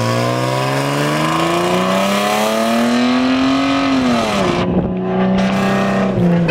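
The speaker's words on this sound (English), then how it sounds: "I want him to floor it so you can hear how loud it is." A loud car engine with a broken exhaust revs hard and close, its raspy roar climbing in pitch before dropping off and rising again.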